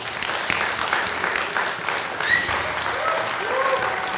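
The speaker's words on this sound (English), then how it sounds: "now it's time for the one big applause for all the entries" An audience at a music competition claps in sustained, even applause, a dense crowd of hands that stays steady before thinning slightly at the end.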